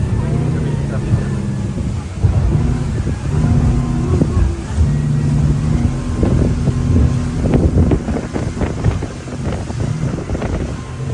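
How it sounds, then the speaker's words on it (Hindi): A speedboat races across the sea near a beach in Thailand, its engine roaring under heavy buffeting wind noise, with a person talking over the loud, steady rush. "बोट ने अपनी स्पीड पकड़ ली है, खतरनाक किस्म की है, काफ़ी ज़्यादा।"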